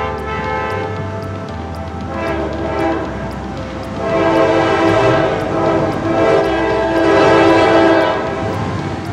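A K5LA five-chime air horn on a train sounds in long sustained chords, loud and close, swelling in the middle and again near the end over the rumble of rail traffic.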